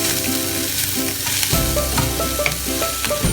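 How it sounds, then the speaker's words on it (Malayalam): Drumstick pulp is stirred in a hot frying pan, a loud close sizzle with scraping stirring strokes and a heavier clatter partway through, with no one speaking. "അപ്പോൾ ഈ മുരിങ്ങയ്ക്കയുടെ ആ കാമ്പ് ഇട്ടിട്ട് നമുക്കൊന്ന് ഇളക്കുക."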